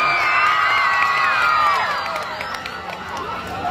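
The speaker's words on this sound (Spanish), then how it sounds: "¡Y aplauso para el flaco!" A crowd at a lively dance contest cheers and whoops after a call for applause, excited voices and shouts rising loudly over each other, then easing slightly toward the end.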